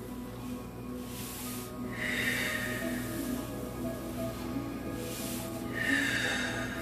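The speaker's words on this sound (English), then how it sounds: "Inhale up. Exhale back and down." A yoga instructor's slow breathing, with two long airy inhale-exhale swells during a neck and shoulder stretch, soft and close over a steady low hum.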